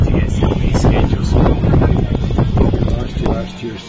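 Loud gusty wind buffets the microphone at an outdoor university football game, with a steady low roar, and a voice speaks underneath the rumble.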